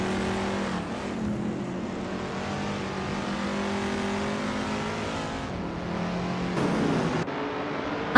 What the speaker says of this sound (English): the vintage slow cars are revving up at Hockenheimring Retro GP